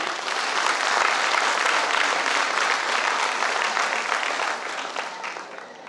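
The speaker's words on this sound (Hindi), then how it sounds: "एक बार इस कंपनी के नाम जोरदार ताली।" An audience at a company product launch gives a loud, dense round of applause that holds steady for several seconds before tapering slightly at the end.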